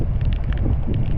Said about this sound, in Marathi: वारा पण खूप.